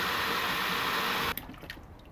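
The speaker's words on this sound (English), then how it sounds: "So first I need to fill up the trash can with about 15 gallons of water." Water pours steadily into a plastic trash can being filled to about 15 gallons for soaking a cast iron skillet, a loud continuous rushing gush that cuts off partway through, leaving quieter drips and trickles.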